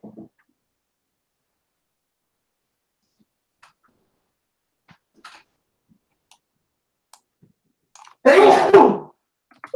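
Single sneeze bursting out near the end of an otherwise quiet stretch, a few faint ticks and clicks scattered before it.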